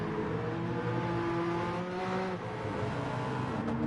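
A Nissan race car engine in a historic-car racing video game drones steadily at high revs, close and continuous, with faint tire whir underneath.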